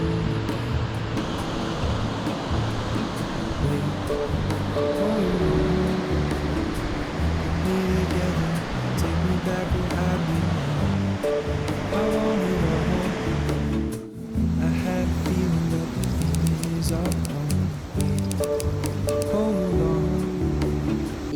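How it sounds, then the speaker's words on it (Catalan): Surf washing into natural saltwater pools on the Angolan coast, a steady loud rush of water that carries on without a break, with an engine-like low rumble running underneath. "unes piscines naturals d'aigua salada"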